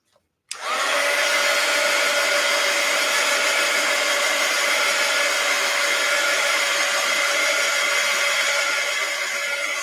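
Hair dryer blows on acrylic paint on an art journal page, switching on abruptly after a short silence and then running as a loud, steady, close whooshing hum to the end.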